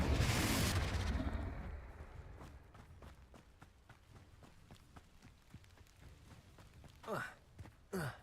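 A Confringo fire-blast spell in the game Hogwarts Legacy goes off loud and close at the start, a broad roaring burst that trails off into rumbling, with sharp crackling impacts and two whooshing bursts near the end.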